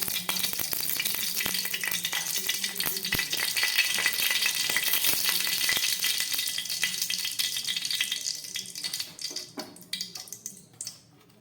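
Spoonful of white oil heating in a kadai on the stove, giving a steady soft sizzle with faint ticks and rattles that fades toward the end.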